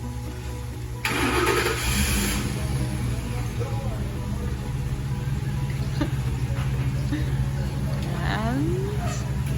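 A fire truck starts its engine and pulls out of a fire station for a medical call, its engine rumbling loudly and steadily after the start and building as it moves off, with people talking nearby.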